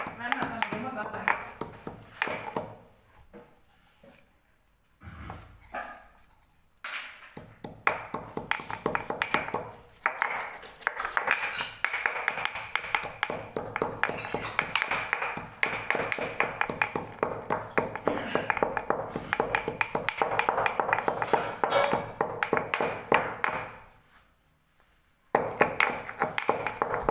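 Pepper pounded and ground for fish curry, a dense run of rapid, loud metallic pings and knocks that rises and falls, with children's voices talking over it.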